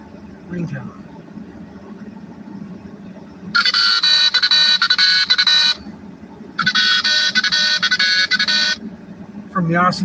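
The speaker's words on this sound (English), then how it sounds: "most awesome ringtone." Two bursts of a bright electronic ringtone, each several seconds long, with speech and background noise in the gaps between them.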